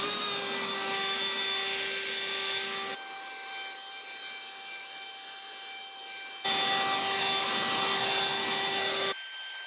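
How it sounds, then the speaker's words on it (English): A Toro 60V battery leaf blower roars at high speed while blowing a thick mat of damp pine needles, with a loud whine that drops to a lower throttle in the middle and then surges again. "So we've got our blower. Let's see how it handles a really thick mat of pine needles."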